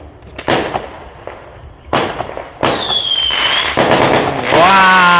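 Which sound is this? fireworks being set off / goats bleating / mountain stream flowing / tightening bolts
fireworks being set off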